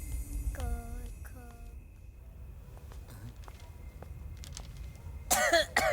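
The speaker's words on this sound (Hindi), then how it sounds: "बहुत खांसी आ रही है" A person coughs in a few harsh bursts, then quieter shuffling, ending with a loud flurry of sounds close by.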